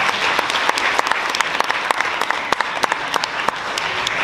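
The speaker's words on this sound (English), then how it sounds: "let's give your family and supporters here a round of applause" Audience applause for students' families and supporters at a Mount Horeb Area School District gathering, a steady dense crackle of many hands with sharper individual claps popping through, sustained and fairly loud throughout without talk.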